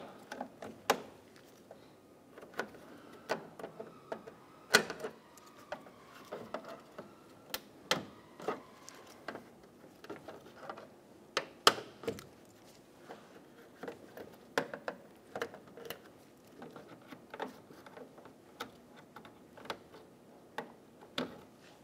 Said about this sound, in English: Using a trim tool, we're gonna pop all of the plastic clips out of the top trim.